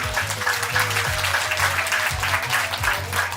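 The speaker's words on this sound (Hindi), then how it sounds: "बहुत बढ़िया, तालियां बजाइए।" Warm, steady clapping from a group at a yoga session, sustained hand claps filling the whole stretch with a faint tone underneath.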